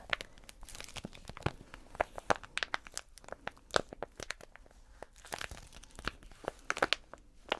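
Plastic crinkles and crunches up close as an ASMR trigger, in dense, rapid bursts of sharp crackles with no talk.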